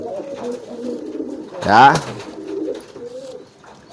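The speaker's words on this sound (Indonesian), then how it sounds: "Ini merpati balap." Racing pigeons coo in a coop with a soft, repeated rolling call close by, one louder burst of cooing midway, while someone speaks briefly.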